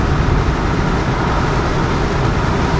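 Steady broadband wind rush inside a moving Ford Crown Victoria with damage on the right side, a constant roar blending with low road and engine rumble throughout, no talking.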